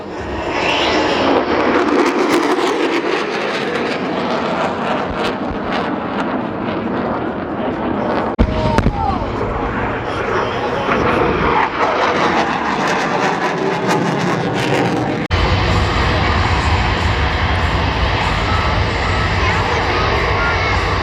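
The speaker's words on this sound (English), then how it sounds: "Here we go for our first weapons pass, simulated from the F-35s." Sustained loud roar of an F-35 jet engine at an Australian International Airshow, with heavy rumbling booms from simulated weapons-pass pyrotechnics mixed in, lasting about twenty seconds with abrupt shifts in intensity and a commentator talking over it.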